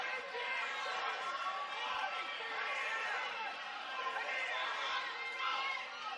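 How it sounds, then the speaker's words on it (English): Crowd noise fills an MMA fight night at Southland Casino Hotel in West Memphis, Arkansas, a steady, faint, distant murmur of spectators with no single voice standing out. "You can hear the crowd behind us, man."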